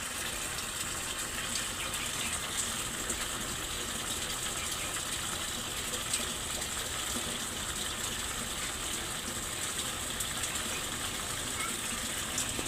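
Water pours steadily into a Samsung automatic washing machine that keeps filling while washing, a continuous loud gushing and rushing that never lets up.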